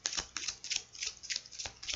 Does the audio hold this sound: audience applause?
no